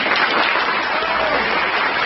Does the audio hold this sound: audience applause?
yes